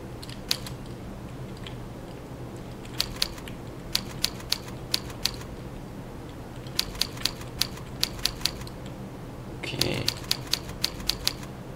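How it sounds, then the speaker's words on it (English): Typing practice on a computer keyboard: scattered, crisp key clicks in short bursts and single taps against a faint background hum, with a brief louder rustle near the end. "Type the R key using your left index finger."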